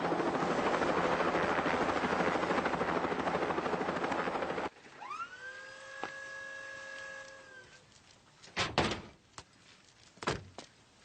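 Loud, close helicopter rotor chop and engine drone for several seconds, then it cuts out and gives way to a whirring mechanical tone and a few sharp thuds.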